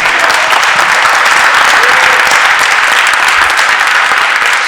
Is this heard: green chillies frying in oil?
no